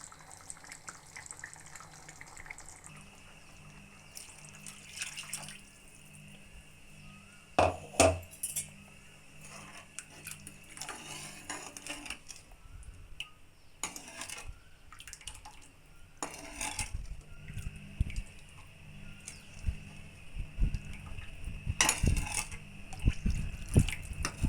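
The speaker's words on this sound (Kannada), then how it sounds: "ಅದಕ್ಕೆ ಇವಾಗ ಸ್ವಲ್ಪ ನೀರು ಹಾಕ್ಕೊತಾ ಇದ್ದೀನಿ." Water being poured into a pot of egg sambar, a faint splashing trickle with a few clinks of metal and glass, growing busier toward the end, heard quietly without speech.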